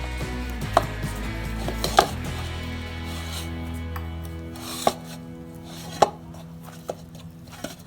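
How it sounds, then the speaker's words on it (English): Soft maida dough for butter naan being worked by hand with butter: close, low rubbing and squishing with intermittent sharp slaps or taps at irregular intervals; no talking. "Now to this dough we will add some butter to it and mix it well."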